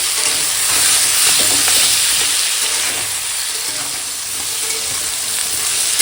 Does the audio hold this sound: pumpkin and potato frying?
yes